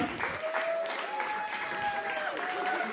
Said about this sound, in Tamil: வாழ்த்துக்கள் கரகோஷம்